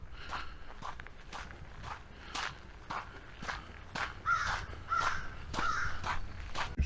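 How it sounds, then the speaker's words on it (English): Crows caw repeatedly near Bass Lake in Blowing Rock, North Carolina, a run of harsh, rhythmic calls from a short distance, with footsteps crunching steadily underneath. "The crows going nuts over there."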